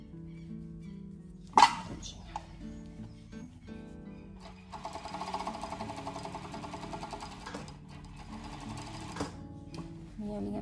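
A sewing machine stitching fabric for a child's underwear, a steady fast whirring run in the middle of the clip after a sharp clack, with a quiet workroom around it.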